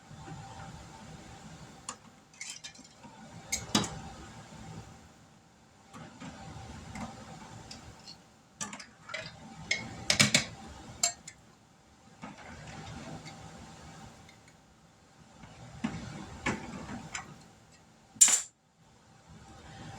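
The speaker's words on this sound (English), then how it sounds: "Let's get some lids on these." Metal lids being set onto glass jars of homemade grape jelly: a series of light metallic clinks and taps in separate clusters, with quiet pauses between them, close by and fairly soft.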